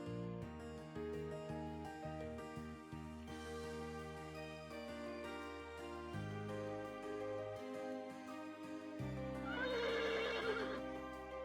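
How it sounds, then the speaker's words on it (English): A horse in the video game Alchemist of Ars Magna gives a shrill, wavering neigh near the end, set against steady, tonal background music. "The people at the inn brought our horse carriage out."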